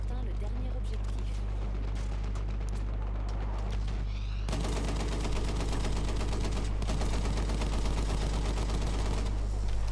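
Gunfire in the World War I video game Battlefield 1, rapid bursts of machine-gun fire and heavy booms over a constant low rumble, the shooting growing denser and louder halfway through, with a player talking over it.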